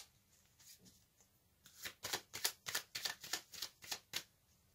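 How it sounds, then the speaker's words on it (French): A deck of tarot cards being shuffled before a card is drawn, starting with soft handling and building into a rapid run of crisp riffling flicks, close and fairly quiet, with no talking. "Je vais tirer une carte supplémentaire pour compléter cette énergie."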